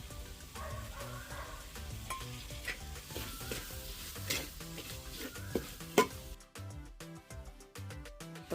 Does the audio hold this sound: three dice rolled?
no